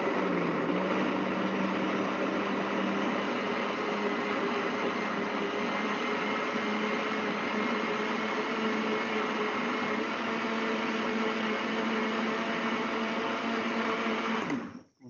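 Blender running steadily for about fifteen seconds, liquefying cassava root with water for a homemade natural insecticide, a loud continuous motor whine that cuts off abruptly at the end.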